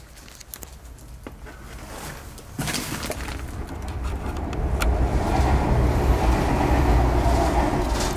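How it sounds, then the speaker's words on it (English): A train rumbles past, its low roar building steadily and growing louder toward the end, with faint bird calls early on. "Yeah, it's a train"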